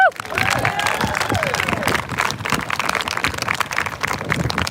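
A crowd at a candlelight vigil for the missing claps and cheers for Micaiah Floyd, with steady, dense applause running throughout, mixed with whoops and voices.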